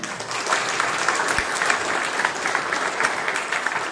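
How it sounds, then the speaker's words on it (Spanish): Steady applause from a crowd fills the whole stretch, dense clapping at an even level with no voices standing out. "Démosles un aplauso."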